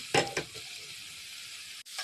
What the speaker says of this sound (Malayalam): കായക്കറിക്ക് കടുക് പൊട്ടിച്ചൊടിച്ച്